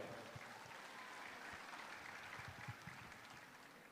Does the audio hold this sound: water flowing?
no